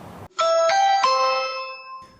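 A doorbell camera at a Mississauga home sounds its chime, three bright, ringing electronic tones in quick rising steps that fade over about a second, loud and near, with no voices.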